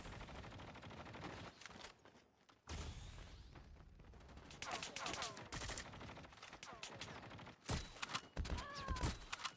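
Call of Duty tournament match on the Alcatraz map with dense bursts of gunfire, rapid automatic volleys and sharp single shots, loud and close, broken by brief lulls and a sudden gap.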